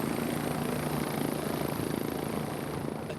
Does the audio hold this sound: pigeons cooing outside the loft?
no